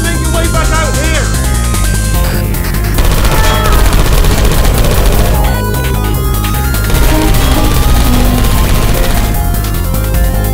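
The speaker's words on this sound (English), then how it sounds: "I heard gunfire!" Dense, continuous bursts of gunfire crackle loudly over game music and effects in the video game Portal 2, with rapid rattling shots and booms throughout.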